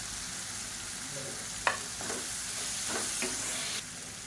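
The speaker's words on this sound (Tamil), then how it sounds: "இப்போ வதங்கிட்டு இருக்கையிலே பொடியாக நறுக்குனா கொத்தமல்லியில் சேர்த்துக்கலாம்" Onion, tomato and finely chopped coriander sautéing together in a pan for a chutney: a steady frying hiss with several sharp spatula scrapes and taps, near and unaccompanied by talk.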